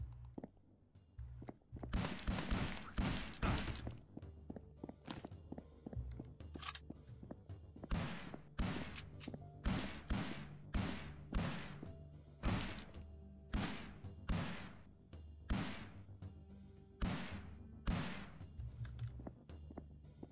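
Rapid bursts of gunfire in the first-person video game This Strange Realm Of Mine, with repeated loud shots and thuds in an irregular rhythm throughout, set on a castle wall while fighting red-eyed cultists.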